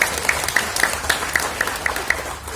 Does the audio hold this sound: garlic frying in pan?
no